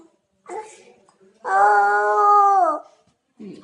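A small child imitates a cat's cry, a drawn-out wailing meow with a rising and falling tone, preceded by a shorter vocal sound and followed by a brief murmur, close and fairly loud.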